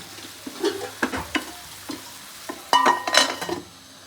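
Onions frying in a pan for a Telangana-style tamarind leaf curry, a steady soft sizzle with several sharp clattering stirs of a spoon against the pan, up close and with no talking.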